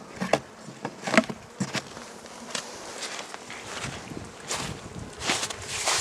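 Honeybees buzz around hives that were bought in autumn and have just been opened at an apiary. A steady insect drone is heard nearby, along with scattered footsteps and handling noises.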